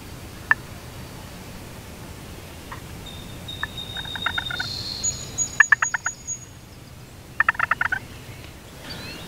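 Wild turkeys gobble from the roost at a distance in several short, rapid rattling bursts. Quiet outdoor ambience fills the gaps between them.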